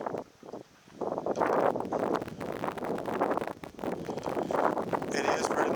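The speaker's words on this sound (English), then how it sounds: "that wind is a little nippy this morning" Wind buffets the microphone at a 1936 bridge over Otter Creek, a steady rushing roar that rises and falls, with a person speaking faintly underneath.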